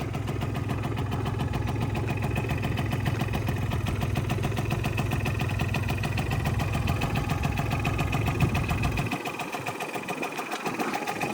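A Yamaha Jog scooter engine idles steadily with a fast, even putter, running loud and close before the note drops and roughens near the end.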